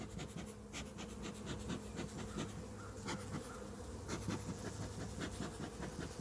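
A captured honey bee swarm buzzes steadily, a dense close-up drone of many bees with no voices, holding an even level throughout.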